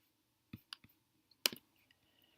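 A few light, sharp computer mouse clicks, spaced irregularly, close up and quiet in an otherwise silent room.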